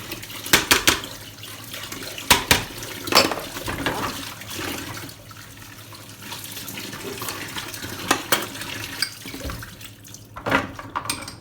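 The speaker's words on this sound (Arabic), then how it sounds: "ونكمل نغسل دوك المواعيد هذوك" Dishes and bowls washed under a running tap in a home kitchen sink, water streaming steadily with repeated clinks and splashes as pieces are rinsed, no voices.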